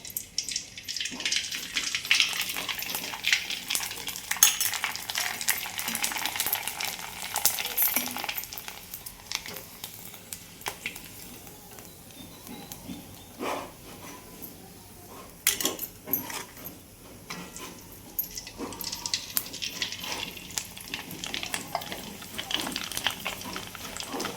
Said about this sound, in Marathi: आता इकडं माझ्या कोरडे आणि पापडी तळायला चालू आहे